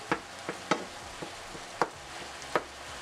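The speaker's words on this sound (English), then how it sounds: "Continue to break this up and mix it up." Ground beef frying in a pan, broken up and stirred, with a steady soft sizzle and several sharp scraping knocks of the utensil against the pan at an uneven pace.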